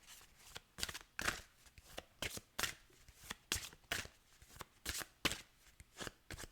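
Oracle cards riffled and shuffled in a rapid series of crisp, papery bursts, close and fairly loud, repeating steadily with brief pauses between riffles.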